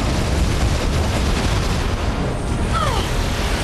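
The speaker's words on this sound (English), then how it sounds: "if you get hit by 1 or 2 of these explosions, that's fine" Explosions go off during a boss fight in the video game Metroid Prime 3: Corruption, a loud, sustained roar of blasts and rumble that fills the clip without pause.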